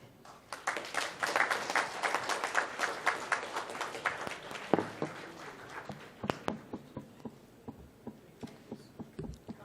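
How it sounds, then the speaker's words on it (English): An audience at a corporate award event claps for the winning team, a modest burst of applause that swells early then thins out into a few scattered, fading claps. "A huge round of applause for the winning team."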